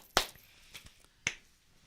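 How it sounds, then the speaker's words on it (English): Two sharp, close hand claps in a podcast studio, the first loud and the second softer about a second later, with a faint tap in between and no talking. "We got 2 claps."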